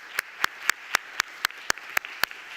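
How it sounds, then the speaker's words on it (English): Slow, evenly spaced claps from a conference audience, about ten sharp hand claps in a steady rhythm, fairly close and distinct rather than a dense crowd roar. "So please join me in giving them a warm round of applause."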